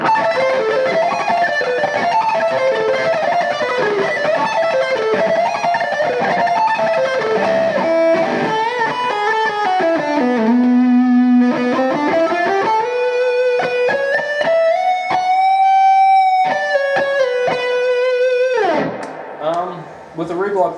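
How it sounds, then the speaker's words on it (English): Electric guitar through a Laney Ironheart 60 amp and 2x12 cabinet on the lead channel with super overdrive and reverb, loud saturated heavy metal riffs giving way to sustained bending lead notes, ending abruptly with a short pause. "With a rig like that, I'd quite happily do a gig"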